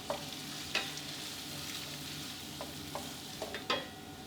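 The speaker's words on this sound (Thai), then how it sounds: "เจียวไฟกลางๆครับเจียวให้เหลืองหอมกรอบดีเลยนะครับ" Garlic frying in oil with salt over medium heat, a soft steady sizzle under scattered stirring clicks and scrapes, quiet and close with no talking.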